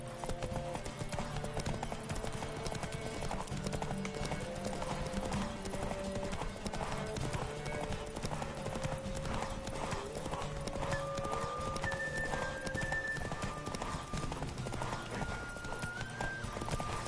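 Horse hooves clip-clop at a steady gallop throughout in The Witcher 3, with an occasional whinny and game music underneath.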